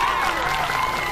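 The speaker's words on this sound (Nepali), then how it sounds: "एकपटक यी बुढालाई ताली पिट्नुपर्छ" An audience applauds steadily throughout a live Nepali comedy performance featuring Purkhe Ba, with dense, continuous clapping and no pauses.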